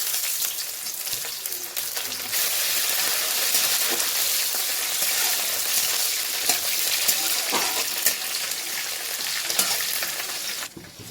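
Whole cumin seeds, bay leaf and dried chilli frying in hot oil alongside onion, a loud continuous crackling sizzle close by, with scattered pops and stirring scrapes throughout.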